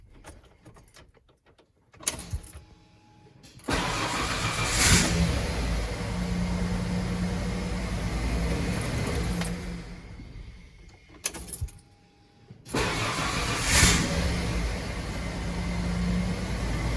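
A Ford F-Series 4.9 gear reduction starter motor with fresh brushes, its solenoid jumped, whirs loud and close in two sustained runs of several seconds each, separated by brief pauses and clicks.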